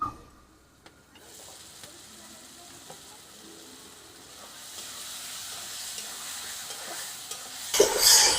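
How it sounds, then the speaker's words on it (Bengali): Potatoes sauté with spice paste in a pan, giving a soft, continuous sizzle with faint stirring scrapes. The sizzle swells into a louder hiss at the end. "মশলার সাথে আলুটাকে আমি ভালো করে কষিয়ে নেব"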